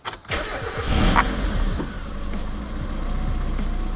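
Mazda Miata fitted with a swapped 1.8 engine cranks briefly and catches quickly, then settles into a steady close idle.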